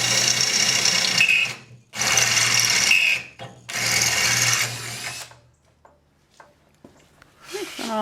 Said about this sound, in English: Happiness is a sharp drill.